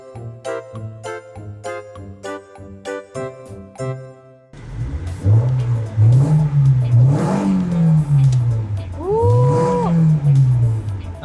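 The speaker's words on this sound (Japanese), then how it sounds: "SR の NA って結構いい音するんですよね" A few seconds of tinkling chime-like tones give way to the naturally aspirated SR engine of a Nissan Silvia S15 accelerating, its revs climbing and dropping in loud, close sweeps.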